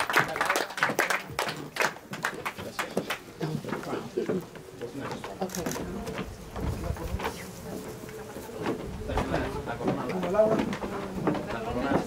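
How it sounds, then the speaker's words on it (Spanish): Guests at a quinceañera party applaud the godparents, a burst of scattered hand clapping from a modest indoor crowd that fades into murmuring chatter and room noise. "Vamos a dar un aplauso a todos los padrinos"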